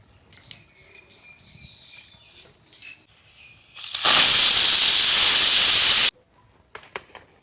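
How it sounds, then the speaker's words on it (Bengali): A pressure cooker cooking country chicken lets out its whistle as a loud, sustained steam hiss lasting about two seconds, then cuts off abruptly amid quiet kitchen clatter. "একটা সিটি পড়ে গেছে এবার আর একটা পড়বে"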